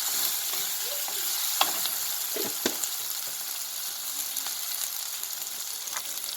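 Ginger fries in a pan with a steady close crackling sizzle and a few faint stirring scrapes scattered through.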